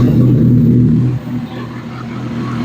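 A sport bike engine starts and runs with a loud low rumble, then drops to a quieter idle partway through, heard close up.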